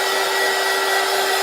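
A heat gun drying paint blows a loud, steady whooshing roar with a constant hum. It runs continuously and close, with no talk over it.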